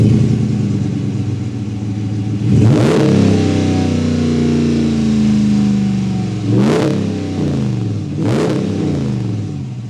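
Close, loud 2021 Ram 1500 Rebel pickup truck engine idling with a low rumble, then revved hard three times, each rev climbing and falling back to idle.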